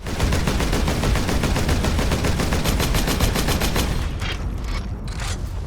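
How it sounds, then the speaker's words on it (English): Rapid automatic weapon fire in the Warhammer 40K Space Marine video game, a dense, loud stream of shots that stops near the end, leaving a brief mechanical tail. "some weapons actually sound different when they're low on ammo to tell you that you need to reload soon"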